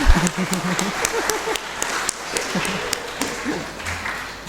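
A church congregation at an Easter service applauds, many hands clapping in a lively burst alongside some talking voices, the clapping thinning toward the end.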